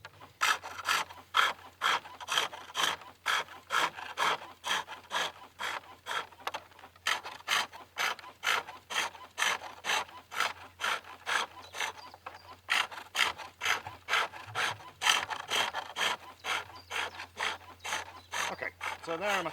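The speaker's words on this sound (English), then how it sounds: "I'm using a simple tool called a skew chisel, which I'm using in 2 different ways. One to just cut a groove into the work" A skew chisel cuts grooves into a green-wood Windsor chair leg turning on a pole lathe: steady, rhythmic rasping scrapes repeating about twice a second, close and even, with a faint low hum beneath.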